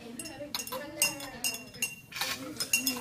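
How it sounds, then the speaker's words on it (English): A glass stirring rod clinks repeatedly against the side of a glass beaker of liquid in quick, bright taps spread across the stir, with a voice talking faintly underneath. "And then take the stirring rod, Kevin, and stir it up."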